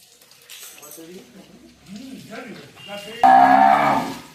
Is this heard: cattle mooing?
yes